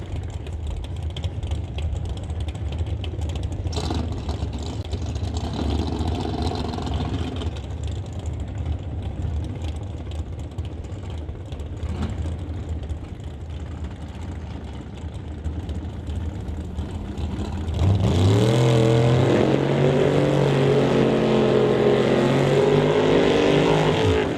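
A 1967 Chevy door slammer drag car sits at a low steady idle under light crowd noise, then its engine revs hard and roars loudly near the end during Canada West qualifying at the Langley track.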